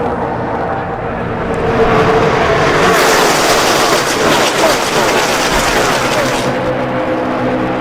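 NASCAR stock cars race at Talladega at nearly 200 mph, three lines wide. The engine roar swells as the pack closes in, peaks loud as it passes, then fades, with a commentator talking over it.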